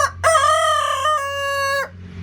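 A rooster crows loudly and close by in one long, drawn-out call of about a second and a half, with no talking over it.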